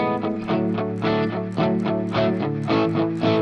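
Distorted electric guitar plays a quick repeating pattern of picked notes, a fixed low pedal tone alternating with shifting higher ones in a driving rhythm.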